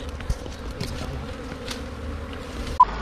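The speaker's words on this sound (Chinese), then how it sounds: "啊，蜜蜂都在天上飞啊。" Wild bees from a deep lure-hole colony being smoked out swarm through the air, giving a steady buzzing hum beneath strong wind noise, with a brief thump near the end.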